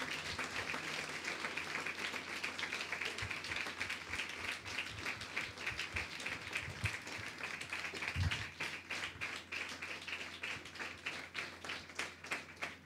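A church congregation applauds together during a New Year sermon, a steady dense patter of many hands clapping that carries on without pause at moderate loudness, with no one speaking over it.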